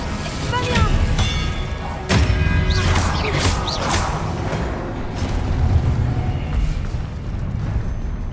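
Expelliarmus disarming spell in Hogwarts Legacy: sharp magical cracks and whooshing bursts amid a busy duel soundscape of impacts and rumble, repeated several times at close range.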